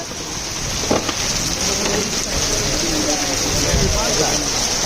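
Hard rain falls in Tejgaon, Dhaka, as a steady, close hiss that runs under people talking throughout.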